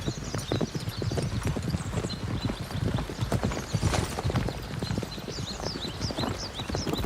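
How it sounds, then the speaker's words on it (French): A horse gallops during an obstacle race, its hooves beating a fast, continuous clip-clop rhythm up close, with a brief whinny and a voice calling over it. "Galop! Galop! Encore plus vite."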